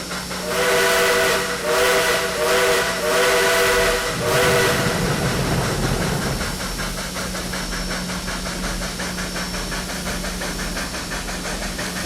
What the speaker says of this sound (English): the reason why I've turned my volume down is because of the whistle